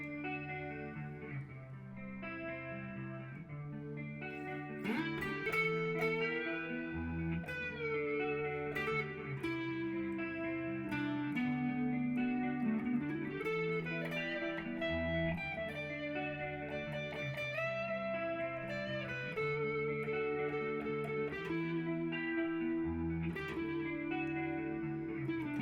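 An Epiphone Tony Iommi SG Custom electric guitar plays a slow sequence of chords and picked notes, drenched in lingering reverb, with no voices.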